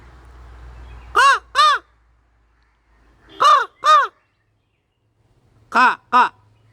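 A person mimics a crow cawing, three quick pairs of sharp, close caws with silent gaps between each pair.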